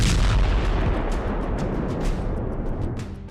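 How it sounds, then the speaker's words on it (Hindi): Rockets fired from Gaza at Israel, a loud close boom at the start followed by a rumbling roar that fades over a few seconds, with no voices. "सुबह 6:30 बजे ही गाजा से इजराइल पर 3 रॉकेट दागे गए"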